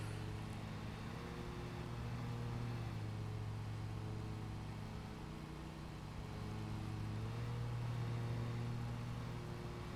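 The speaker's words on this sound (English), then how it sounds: "you're driving a mower that turns very well" A riding lawn mower engine in Lawn Mowing Simulator hums steadily and close, its drone rising and falling slightly in pitch as the mower turns, with no voices over it.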